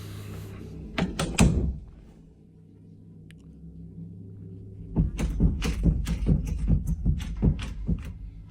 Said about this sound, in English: The bedroom door suddenly begins to rattle out of nowhere as if someone was there